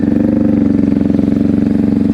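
A motorcycle engine runs with the throttle held up at slow speed during advanced low-speed riding practice, a loud, steady, close throbbing putter with no voices over it.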